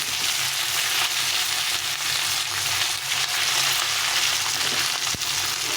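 Sliced eggplant and flat beans fry in a pan with a steady, dense sizzle and crackle that holds close and loud throughout, with no voices.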